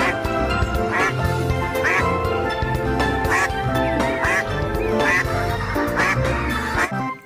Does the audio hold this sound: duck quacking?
yes